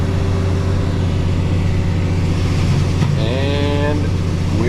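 Farm tractor engine running with the PTO engaged during harvest, a steady low diesel drone that climbs in pitch as it revs up near the end.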